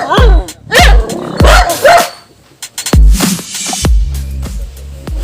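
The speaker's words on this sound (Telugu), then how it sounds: "మేడం మీ ఇంటి ముందు కుక్కలు ఉన్నాయి మేడం" Several dogs bark in front of a house, loud and close, in a quick run of sharp barks that pause briefly and then resume with a few more.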